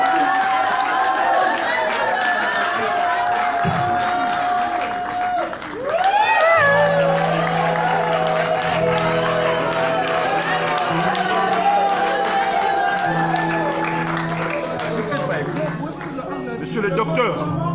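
Applause and cheering from a gathered crowd at a book launch ceremony for a Congolese senator's book, as a bouquet of flowers is presented. The clapping runs steadily throughout, mixed with voices and tonal sound.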